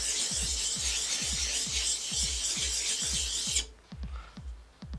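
A chisel rasps back and forth on the fine side of an oil stone in steady, rhythmic strokes, close up, then the scraping softens and slows near the end.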